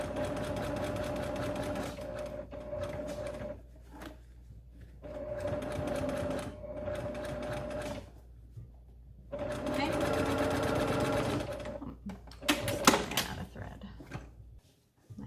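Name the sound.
sewing machine stitching a child's face mask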